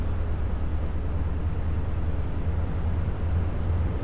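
The diesel engine of a Class 43 HST power car in the game Train Sim World 3 gives a steady, dense roar as its turbo spools up, low rumble dominating with an even hiss above, continuous and fairly loud with no talk.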